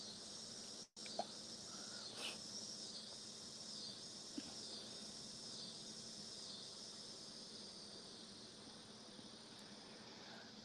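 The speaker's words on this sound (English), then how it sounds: "Can you hear the cicadas in the background?" Cicadas drone steadily in the background with a continuous high-pitched buzzing trill that runs unbroken throughout. The sound is moderately faint and outdoors-sounding, with no talking.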